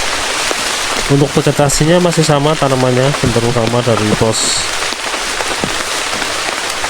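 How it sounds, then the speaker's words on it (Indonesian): Steady rain falls on a forested mountain trail on Mount Slamet along the Baturaden route, a dense continuous hiss while someone speaks over it. "yang masuk ke video itu suara hujan bukan suara air sungainya"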